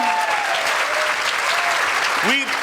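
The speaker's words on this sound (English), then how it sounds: "please give yourselves a big round of applause for joining us today" Round of applause from attendees of a community forum celebrating immigrants, loud continuous clapping with a voice speaking over it and a brief tonal squeal near the end.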